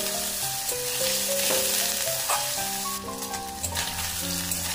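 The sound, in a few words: paneer pieces frying in hot mustard oil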